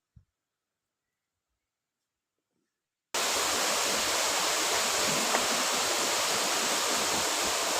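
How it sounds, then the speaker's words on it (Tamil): The Valli Sunai waterfall pours as a loud, steady rush of broadband noise. It starts abruptly after about three seconds of near silence and carries on unbroken. "அப்படி ஒரு சின்ன இடைவெளிக்குள்ளே அங்கே பார்த்தா அழகான ஒரு அருவி தெரியுது."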